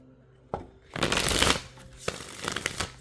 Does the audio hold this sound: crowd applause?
no